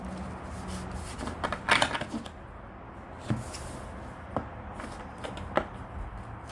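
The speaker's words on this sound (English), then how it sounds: "Get 3 clean shuffles with this deck." A deck of tarot cards is shuffled by hand at close range, soft riffling and rubbing bursts with brief pauses between them.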